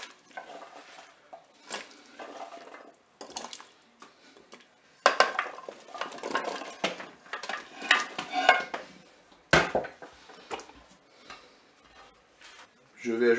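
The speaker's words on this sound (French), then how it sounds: "On va maintenant ajouter les légumes dans le cookéo." Chopped vegetables tumble into the metal pot of a Cookeo multicooker in a string of irregular clattering scrapes and thuds, some louder than others, close by in a home kitchen.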